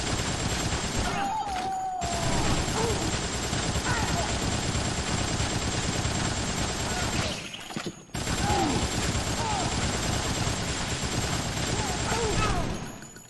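Dense, sustained gunfire from the zombie action game Dead Rising, loud and continuous with a rumbling helicopter-like drone, breaking off briefly twice before resuming, with voices under the shooting.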